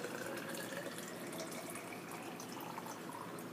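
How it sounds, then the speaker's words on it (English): Water pours steadily into a glass from a tap, a soft continuous splashing stream, faint and close, with no one talking. "Let me just get myself some more water."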